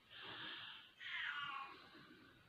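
A cat waking up with a soft, breathy, drawn-out meow-like vocalisation in two swells, close but quiet, heard alone.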